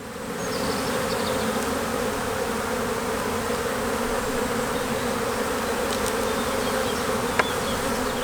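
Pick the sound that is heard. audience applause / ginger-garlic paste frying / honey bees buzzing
honey bees buzzing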